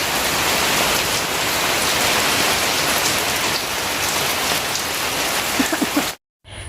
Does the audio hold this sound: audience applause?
no